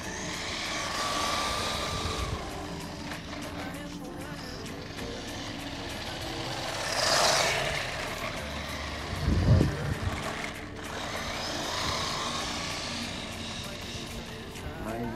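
A Guokai 1:16 scale 4x4 RC monster truck runs at full throttle, its small electric motor whining steadily with a louder surge midway, heard from nearby with no talk.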